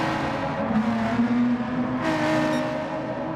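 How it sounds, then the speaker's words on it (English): Race cars at a short-track event slowing hard into a corner, a dense steady engine roar with whining tones and faint tire squeal, sustained and loud throughout. "you hear all of these cars hard on the brakes"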